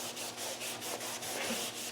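A Scotch-Brite pad scrubs steadily over a plastic Land Rover panel to key it for paint, giving a continuous abrasive rubbing with a regular back-and-forth rhythm, close and alone.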